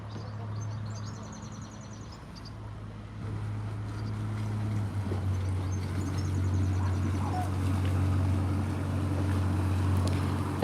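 A boat engine drones steadily at low pitch, growing slightly louder as it approaches to pass under Ludham Bridge on the Norfolk Broads, with wind and faint water noise around it.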